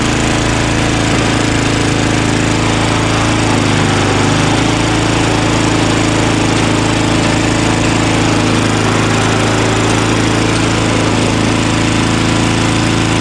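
Tecumseh 5HP engine on an Ariens 524 two-stage 24-inch snowblower, running steadily on half choke with a slightly gummy carburetor, a loud, continuous, unbroken drone close to the mic with no talking.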